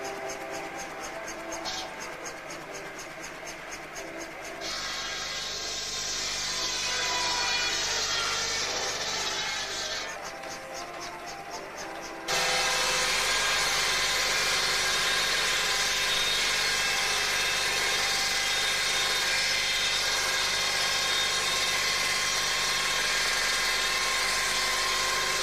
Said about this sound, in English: One of the many uses of the traction engine, using the belt to power a saw.